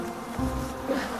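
Honeybees buzzing at an open beehive while frames are being pulled out, a dense, steady drone that stays close and continuous with slight swells.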